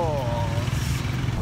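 A Grab motorcycle taxi ride through Pattaya, Thailand: a low, steady engine rumble runs the whole time, close by, with voices talking over it.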